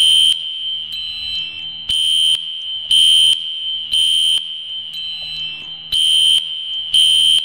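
Loud fire alarm piezo beeping in a Roblox game, repeated bursts of a steady high tone pulsing on and off about once a second, with no voices.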